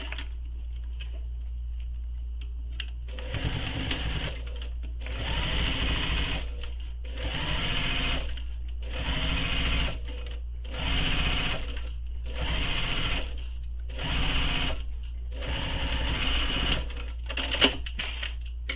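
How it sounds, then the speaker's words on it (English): A sewing machine topstitches along a backpack edge in repeated bursts of rapid needle chatter, about eight runs separated by short pauses over a steady low motor hum, close and clear. "So now I'm going to top stitch this with the seam allowance that's given in the pattern."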